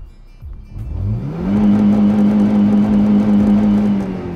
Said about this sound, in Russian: После покупки надо всегда проверять отсечку сразу.